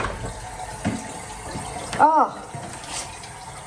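Water runs steadily in a toilet cistern in a château after a flush that failed to pop back up, a continuous trickle and hiss with a brief swell midway and a short exclamation from a voice.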